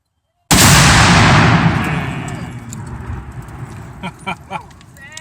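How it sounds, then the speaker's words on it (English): A single sudden, very loud Tannerite explosion booms and rumbles away slowly, followed by faint scattered sounds as the echo fades. "I'm going to prepare you a loud explosion called Tannerite"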